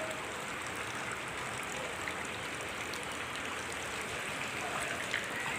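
Water rushes steadily through a street drainage channel carrying thrown trash, a continuous close, noisy flow with no voices.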